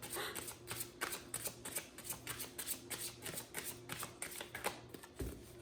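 Oracle cards shuffled over and over during a Pisces reading, a steady run of quick riffling slaps and flicks close by, with no talking.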